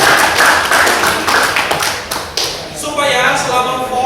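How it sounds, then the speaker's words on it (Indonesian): A group at a trainer-facilitator workshop claps hands in loud, close, rhythmic bursts, with talking over the clapping. "Oke, tepuk tangan dulu."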